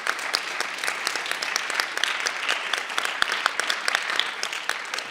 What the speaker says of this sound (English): to just give another round of applause for the poets.